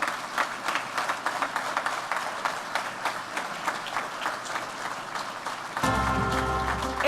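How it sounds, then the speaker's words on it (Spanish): Sustained audience applause welcoming a speaker at a 2018 political-economic outlook conference, dense steady clapping that gives way near the end to music entering underneath. "Démosle un fuerte aplauso."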